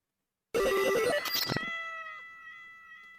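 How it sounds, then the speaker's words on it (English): A cat gives a loud, drawn-out wavering meow that breaks into a brief caterwaul, followed by a ringing, bell-like electronic tone that decays slowly into silence. "Cat."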